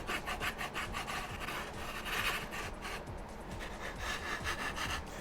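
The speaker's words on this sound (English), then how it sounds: "I'm using the round part of this file." Round file rasping a costume vambrace edge flat, a steady rapid back-and-forth scraping stroke, close and continuous, with no talking.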